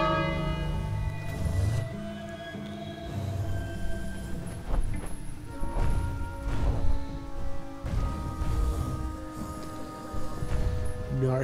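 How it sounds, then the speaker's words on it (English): Bell ringing in the King's Quest adventure game, a series of loud resonant metallic strikes with long overlapping ringing tones that pulse repeatedly over several seconds. "Ring the bell?"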